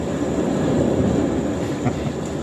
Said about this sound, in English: I love trains, so what I did is I got a train going here